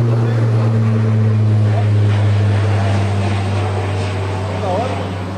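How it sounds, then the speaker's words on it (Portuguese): A propeller airplane flies low overhead near a river, its loud, steady engine drone dominating throughout and fading slightly toward the end. "O avião passando por cima"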